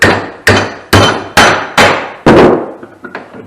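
Seven hard, ringing hammer blows land on a trike body panel at a steady, roughly half-second rhythm, each clang decaying before the next; the last few hits come quicker and lighter.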